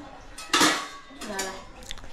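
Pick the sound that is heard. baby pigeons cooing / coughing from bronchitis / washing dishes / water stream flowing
washing dishes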